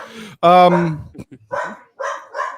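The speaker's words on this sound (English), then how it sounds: "There's a dog barks in the background." A dog barks in the background, giving a few sharp barks and yips mixed with a person's voice that talks over part of the sounds.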